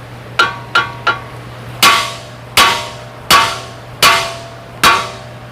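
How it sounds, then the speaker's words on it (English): Hammer striking car suspension parts while tearing down an Altima for repairs, delivering eight sharp metallic blows: three quick lighter taps, then five heavier, evenly spaced strokes that ring briefly, loud and close with no talking. "I hold my hammer like this. Gives me balance, short, hard strokes."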